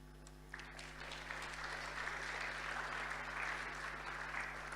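An audience at a university ceremony applauds, a sustained wash of many hands clapping that swells after a brief start and stays steady, heard from a distance over a low electrical hum.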